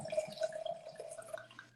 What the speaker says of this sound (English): I'm gonna pour some in my glass